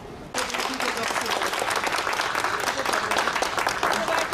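A dense, steady round of applause from an audience at an indoor gathering in Turkey, bursting in sharply after a brief quiet start and holding loud and continuous throughout, with no one speaking over it.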